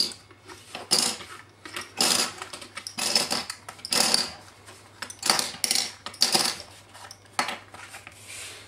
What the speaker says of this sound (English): Okay, that should be dry now, so let's take off the binder clips.